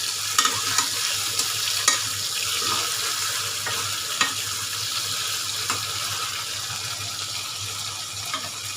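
Fish frying in a hot pan, a steady close broadband sizzle with occasional sharp pops and spatters, no talking.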